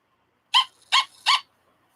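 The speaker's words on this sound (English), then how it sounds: "Oh, here's the bark." Three sharp dog barks, evenly spaced, clear and fairly close, with silence around them.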